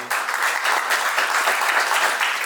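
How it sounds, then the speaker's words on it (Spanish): Loud, dense applause from a wedding ceremony crowd fills the whole moment, steady and close with no break. "Vamos a aplaudir."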